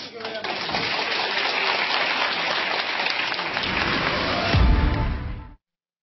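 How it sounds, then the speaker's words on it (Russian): A television talk-show studio audience gives dense, sustained applause that fills the room for over five seconds, swells near the end and then cuts off abruptly. "Спасибо за аплодисменты."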